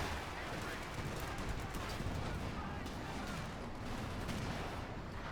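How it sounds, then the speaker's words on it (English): Heavy anti-tank guns and tank cannons firing in Company of Heroes 2, a dense, continuous wall of booming gunfire and rumbling impacts with no gaps, loud and close throughout. "heavy anti-tank fire there, plus tank fire pushing back the Panthers"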